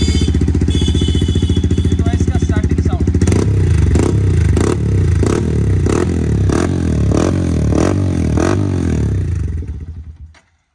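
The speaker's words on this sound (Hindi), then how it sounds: "ये एक्रापो भी फुल सिस्टम एग्जॉस्ट है, इसकी साउंड सुनाऊंगा आपको मैं।" A motorcycle fitted with an Akrapovic full-system exhaust runs loud and close, a steady idle giving way to a series of sharp, rhythmic revs before cutting off near the end.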